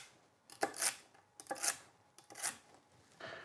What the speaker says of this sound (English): I'm just gonna chop these up just to get them to where I can put them into a blender.